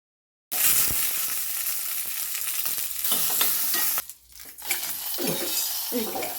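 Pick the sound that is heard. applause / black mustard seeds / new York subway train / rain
black mustard seeds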